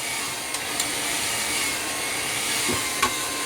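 A hair dryer blows in a continuous, even roar throughout while hair is dried upward for 80s-style volume, with a few faint taps and bumps of handling over it and no talking.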